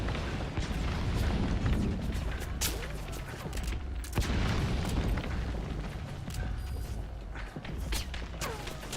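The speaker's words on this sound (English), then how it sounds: "Those are wire-guided rockets." Wire-guided rockets explode during a firefight in Metal Gear Solid V, producing a loud, continuous wall of booms and blasts with dense rumbling that never lets up.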